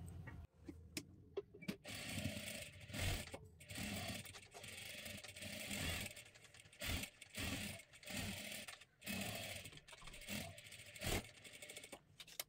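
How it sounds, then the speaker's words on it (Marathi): A sewing machine double-stitching lace onto a blouse, running in close, uneven bursts of rapid mechanical whirring with short pauses between runs. "आता इथे आपल्याला पुन्हा एकदा डबल शिलाई मारून घ्यायची आहे"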